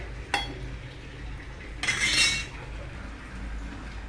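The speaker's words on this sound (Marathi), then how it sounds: "आलू टाकून याला चांगलं हलवून घेऊ." A spoon stirs potatoes in a cooking pot for khichdi, with one sharp metallic clink early on and a longer scraping, clattering stir a moment later over quiet background.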